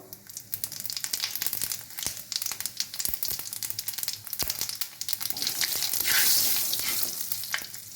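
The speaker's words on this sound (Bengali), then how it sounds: "এবার কড়াইতে আমি পাঁচফোড়ন দেবো।" Panch phoron spices hit hot oil in a kadai while kolmi shak is being cooked, giving a steady crackling sizzle with sharp popping clicks that swells louder toward the end, close by with no voices.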